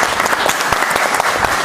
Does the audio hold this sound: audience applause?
yes